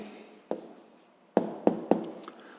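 Pen writing numbers by hand for a sixth-grade math exercise, a few sharp taps and short scratches on paper at close range in a quiet room.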